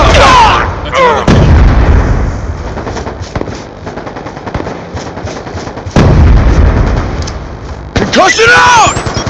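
Explosions and heavy gunfire from a Call of Duty match on the Nuketown map, with loud booming blasts from a sticky grenade near the start and again around six and eight seconds, under dense rattling automatic fire.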